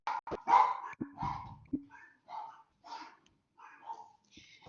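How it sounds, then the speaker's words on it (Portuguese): Dogs bark repeatedly in short bursts, fairly close, with a few yips and higher whines mixed between the barks. "Agora tem os cachorros latindo aqui."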